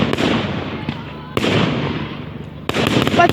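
Three loud fireworks burst one after another over Saltford, each sharp crack followed by a long crackling, fading rumble; a voice is also briefly heard.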